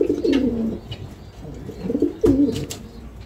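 Racer pigeons on a farm coo softly in low, rolling calls over a steady background murmur, with a few brief sharper clicks and flutters near the end.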